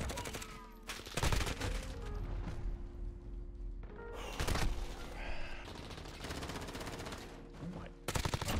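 Bursts of submachine gun fire in a Call of Duty match using a Grau-based build, loud rapid volleys with short gaps and clustered shots, mixed with game effects.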